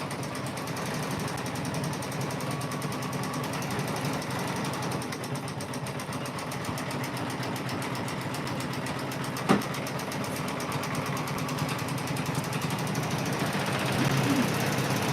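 A Janome M17 combo machine runs in-the-hoop machine embroidery with a fast, even mechanical needle rattle that stays steady and close throughout, with one brief clack partway through.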